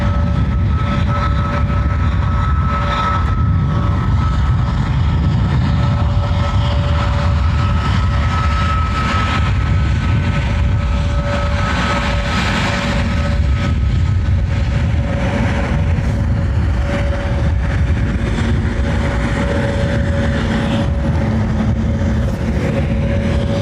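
A Ryanair jet landing at Dublin Airport in gusty high wind, a steady broad engine roar with faint tonal whine and wind buffeting throughout, loud and continuous without any voices.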